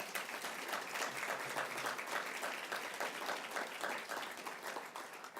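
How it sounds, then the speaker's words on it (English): Audience applause at a museum annual meeting presentation: steady, even clapping from a crowd, moderately faint and sustained throughout with no break and no voices over it. "Can I get another round of applause for Abigail and Sage?"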